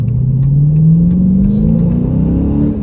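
A 2021 Dodge Challenger Scat Pack Plus with a six-speed manual pulls hard in second gear, its engine note rising steadily in pitch as it accelerates, loud and close throughout.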